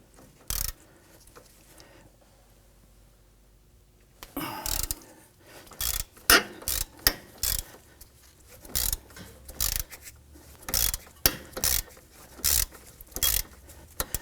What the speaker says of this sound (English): We're going to use our 14mm socket with an extension and our ratchet to go ahead and loosen these.